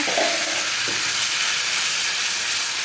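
Spices and chilli paste sizzle and hiss in a hot pan, a dense steady frying noise with a brief stirring clatter near the start.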